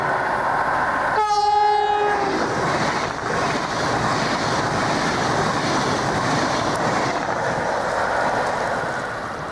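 A train rolls past close by with a loud, continuous rumble and clatter, its horn blasting a long tonal note near the start over steady wheel noise.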